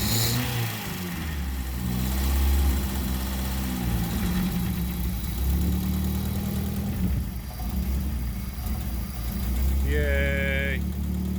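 A car called Frank idles steadily and fairly smoothly after an engine swap, its lifters still pumping up, giving a continuous close rumble with a short voice near the end.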